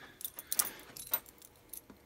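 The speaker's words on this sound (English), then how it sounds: "I just dropped my keys." Keys dropped and jangling, several brief metallic clinks and rattles in quick irregular bursts, faint and close in a quiet room.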